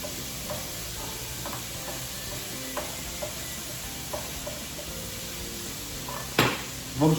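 Pancetta sizzles steadily in a paella pan for a Valencian paella, a constant close frying hiss broken by occasional soft clicks and a scrape near the end.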